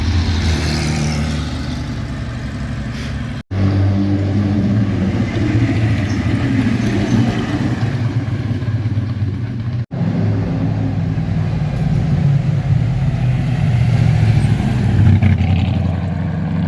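A Porsche engine roars at a classic car rally circuit near Pau, a loud, sustained throaty rumble passing close by with two abrupt breaks and rising intensity toward the end.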